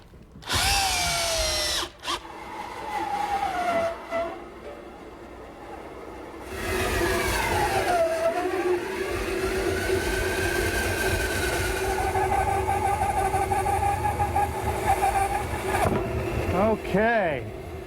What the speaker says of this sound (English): Then we'll cut it out at the bandsaw.